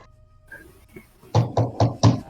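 Four firm knocks on a door in quick, even succession, close and loud, after a few faint scattered sounds.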